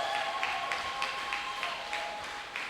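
A church congregation applauds in praise of Jesus, a steady patter of many hands clapping at moderate distance over a continuous tonal hum, with faint voices mixed in.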